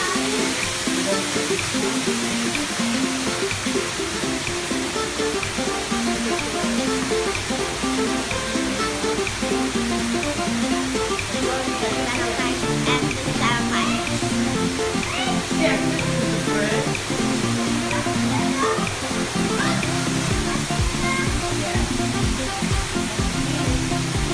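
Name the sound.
waterfall at a water park lagoon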